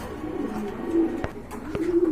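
A pair of racing pigeons coos in loud, low rumbling phrases close by, with a couple of sharp clicks breaking in partway through.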